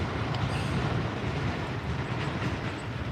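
A northbound Norfolk Southern freight train rolls past on the Atlanta North District line, a close, continuous heavy rumble with wheel clatter filling the whole short stretch.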